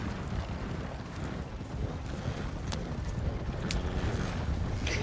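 Horses trotting in the RedM Red Dead Redemption 2 game, a low continuous rumble of hoofbeats with a few faint clicks, steady and fairly quiet.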